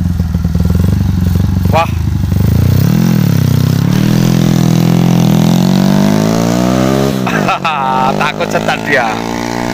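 A modified Herex motorcycle engine on a test ride through rice fields revs up loudly and holds a long, climbing pull, with close speech heard over it.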